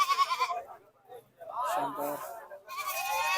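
Goats bleat at the Talagang goat market, wavering calls close by, mixed with people talking nearby.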